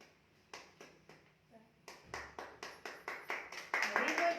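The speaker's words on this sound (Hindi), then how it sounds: "कहीं से कोई ताली की आवाज आ रही है। कोई ताली बजा रहा है।" Hands clap in a steady series of about a dozen sharp, evenly spaced claps that grow louder and closer toward the end, with no talking over them.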